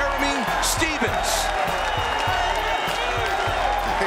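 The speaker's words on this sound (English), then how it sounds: "This crowd is going nuts." Roaring arena crowd at a UFC fight featuring Jeremy Stephens, a loud continuous wash of cheering and yelling that fills the space, with commentators talking excitedly over it throughout.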